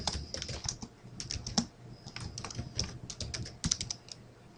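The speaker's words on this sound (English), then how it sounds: "in the title here I'm going to type date of payroll." Quick, irregular clicking comes from a computer keyboard as someone types a short phrase into an Excel dialog box, the keystrokes close and crisp with brief pauses and no talk.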